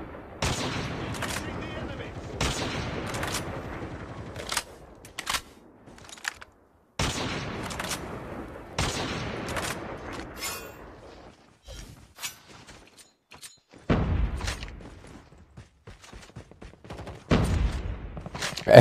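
Call of Duty gunfire plays out as repeated loud bursts of automatic shots separated by short pauses, with scattered single shots during a multiplayer match and a player's voice speaking at times.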